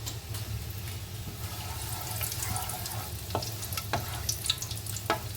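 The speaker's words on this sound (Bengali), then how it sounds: "গোটা গরম মশলা একটু ভাজা হলে" Soft crackling sizzle of whole garam masala spices frying in hot oil, with a low steady hum and occasional sharp pops and clinks.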